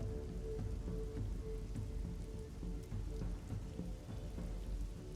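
Steady rain pours down under gray clouds outside a village, a dense continuous patter with low rumbling underneath, loud and unbroken throughout.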